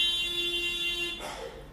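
An alarm sounds as a steady electronic buzzing tone with sharp harmonics that holds for about a second, then cuts off into a brief noisy burst.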